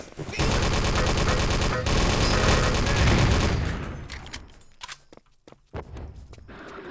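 World War II shooter video game gunfire, a dense loud burst of rapid automatic fire for several seconds, then scattered single shots and footsteps trailing off, with a faint voice now and then.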